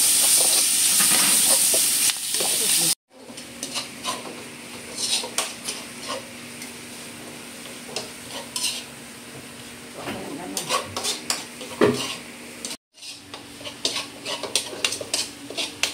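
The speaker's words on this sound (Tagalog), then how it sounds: "Yan, nagisa na natin ating giniling." Ground pork or meat sautéing in a pan for mini chop suey, a soft steady sizzle with occasional scrapes and clinks of a utensil against the pan, two brief gaps, no voices.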